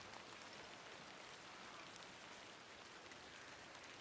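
Rain falls on open moorland as a faint, even, continuous hiss of drops with no voices or other sounds.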